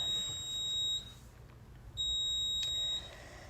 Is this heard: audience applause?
no